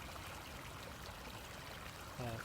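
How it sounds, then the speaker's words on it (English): Steady broadband rushing of a flowing creek, Rocky Branch, stepping down over rock J-hook vanes, continuous and fairly close, with a slightly louder burst near the end. "You hear this nice water."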